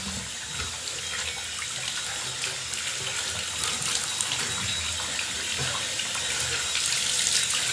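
Hot water runs from a tap in a steady, close splashing gush. It carries on without a break and grows slightly louder toward the end.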